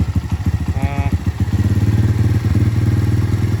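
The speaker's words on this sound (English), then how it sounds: "It sounds like a bigger displacement engine than a 125" An aftermarket 125cc engine swapped into a Honda CT90 motorcycle runs close by with a steady, throbbing idle and rapid rhythmic thumps, a brief higher tone riding over it partway through.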